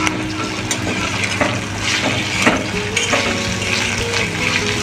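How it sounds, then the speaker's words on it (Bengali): Onion and capsicum fry in a pan with chopped ginger and garlic for fried rice, a steady close sizzle with scattered crackles and light stirring scrapes throughout. "পেঁয়াজ আর ক্যাপসিকামটা ভালো করে ভেজে নেবো।"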